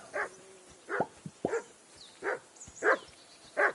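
A dog in the video game Kingdom Come Deliverance 2 barks repeatedly, six or so short, sharp barks in an uneven rhythm mixed with a whimpering yip, fairly close and clear with no talk.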